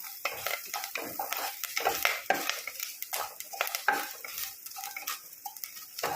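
Spice powders such as turmeric roasting in a hot pan, with frequent quick scrapes and clinks of a ladle against metal over a low crackling sizzle, close by and without talk.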